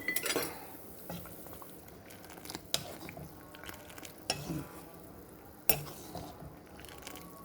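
Salt being stirred into boiling water for upma in a pot, a faint liquid bubbling hiss under intermittent sharp clinks of a spoon against the pan, close and quiet, with no speech.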